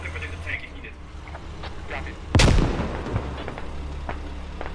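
A single heavy grenade blast in the tactical shooter Squad lands mid-clip, sharp and close, with its rumble trailing off under scattered distant gunfire and a low background hum.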